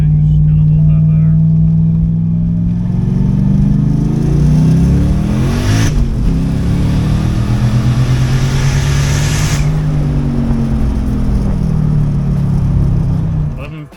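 A turbocharged Volvo sleeper car on drag slicks accelerates hard, its engine roaring loud and close and climbing in pitch through the gears, with someone talking over it.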